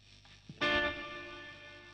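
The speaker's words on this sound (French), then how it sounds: "grosse reverb de fou, tiens, reflective hall, un gros decay, un bon pré-delay" A guitar note struck once and left to ring through a large, reflective hall reverb with pre-delay, swelling loud and then decaying slowly and smoothly into a long tail.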